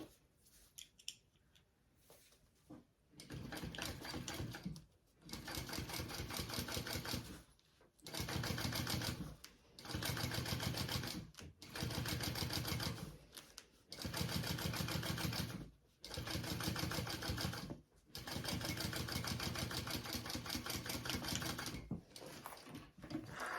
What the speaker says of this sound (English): So I want to flip it up and I'm going to top stitch.